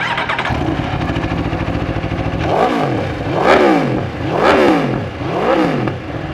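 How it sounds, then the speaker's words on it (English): A 2019 Aprilia RSV4 1100 Factory sport bike with a V4 engine cranks and fires up nearby, settling into a loud, throbbing idle, then revs hard three times in rising and falling swells. "for any of you who have never heard the V4 and Aprilia sing, it is incredible. So I'm gonna start it up for you"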